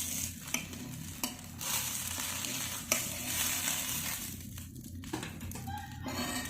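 Moong dal dosa (cheru payar dosa) batter sizzles on a hot oiled pan, a soft steady frying hiss close by with a few sharp ticks and crackles, quiet and without any talking.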